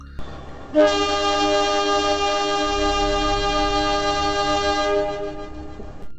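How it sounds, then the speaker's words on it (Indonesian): A train horn sounds one long, loud, steady blast lasting about four seconds over a low rumble, then fades out. "dari arah samping ada kereta yang bunyiin klakson panjang"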